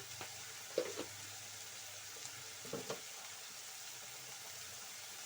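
Beans frying in a pan with a faint, steady low sizzle, broken by a few brief clattering stirs or scrapes near the start and middle.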